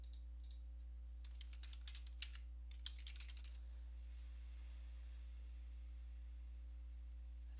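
Computer keyboard typing a search into the Windows Start menu, a short run of faint, soft key clicks over a constant low electrical hum, then quiet.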